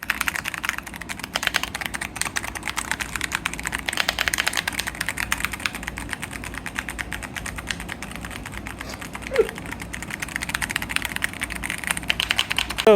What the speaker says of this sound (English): These switches produce a satisfying thwack reminiscent of mechanical keyboards.